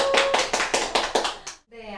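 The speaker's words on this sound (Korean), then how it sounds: "박수로 맞춰주세요." About seven sharp, evenly spaced claps in unison from an audience at an academy information session, greeting a teacher, then a sudden stop with a brief faint tone after.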